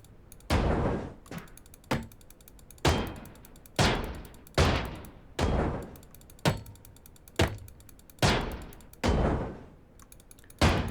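Scrap being smashed in Ship Graveyard Simulator 2: about ten loud, heavy crashing impacts land at an uneven pace, each ringing briefly and then fading before the next hit.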